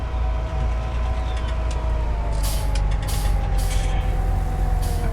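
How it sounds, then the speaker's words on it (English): Fendt Tri-6 six-wheeled tractor in a farming video game, a steady low engine drone with a faint whine, running continuously at close range with brief hissing bursts partway through. "It's nice of Fent to make me a tractor."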